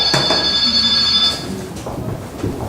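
A telephone rings with a bright electronic trill for about a second, then fades into quiet room noise.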